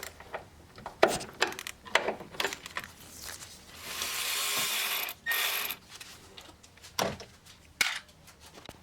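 Wrench ratcheting and metallic clicks while water pump pulley bolts are loosened by hand on a first-generation Chevrolet Cruze, with irregular close clatters and a longer steady whirring burst midway, no talk.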